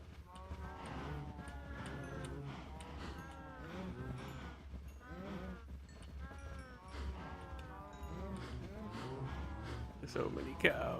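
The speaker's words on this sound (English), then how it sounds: "It's getting to be too many cows." Cows in the game Minecraft give repeated low moos in a steady series, several calls overlapping with sheep-like bleats, heard alone at moderate loudness.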